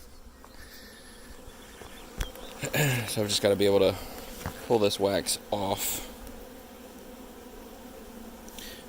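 Honeybees buzz steadily around an opened hive, a continuous insect drone under someone talking close by as he works wax off with a small pointed blade.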